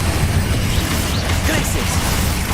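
A Confringo fire spell blasts in Hogwarts Legacy, a dense, roaring burst of noise that fills the whole moment loudly and steadily, with no clear break.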